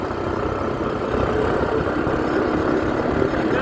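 A vehicle engine in a forest in Washim district gives a steady, continuous rumble at moderate level throughout, with no voices.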